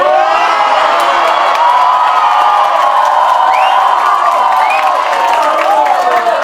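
A large group of children cheers and shouts loudly and continuously at an outdoor Maulid Nabi celebration, a bright, dense crowd roar with scattered whoops and possible faint clapping underneath.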